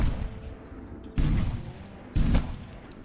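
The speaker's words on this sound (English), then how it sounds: "We'll fire off a few shots and then check out the reload" Two heavy Beretta shotgun blasts ring out in Hunting Simulator 2, each a loud booming report with a rolling tail, spaced about a second apart over low background noise.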